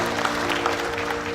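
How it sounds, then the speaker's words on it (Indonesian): Congregation applause at a church miracle night service, a dense sustained clapping from a large crowd filling the room, steady and loud throughout with no speech over it. "tepuk tangan bagi Allah kita."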